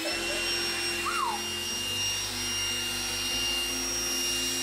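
A Trifo Lucy robot vacuum cleaner with 3,000 Pa suction running, a steady close motor whir and airy suction hum with a constant whine, unbroken and alone.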